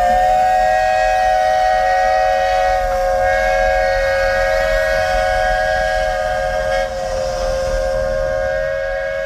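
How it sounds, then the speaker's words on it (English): The Walt Disney World steam train's whistle blows a long, loud, steady chord of layered tones that holds for about nine seconds with barely any change in strength. "anything more iconic in all of the Disney parks than the train whistle"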